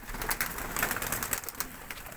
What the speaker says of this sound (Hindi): ये कबूतर हैं इनके।